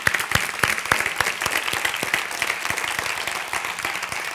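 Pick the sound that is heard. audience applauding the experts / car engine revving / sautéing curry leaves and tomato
audience applauding the experts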